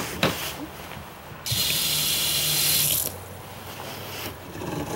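Water sprays from a kitchen sink sprayer in a 2023 Outback 335CG RV, a loud hissing burst of about a second and a half, close by, with faint clicks before and after.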